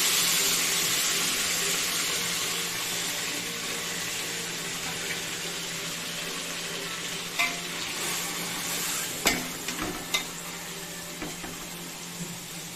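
Chicken sizzles steadily in a hot pan as its water cooks off, a constant crackling hiss, with a few sharp clinks and scrapes of stirring toward the end.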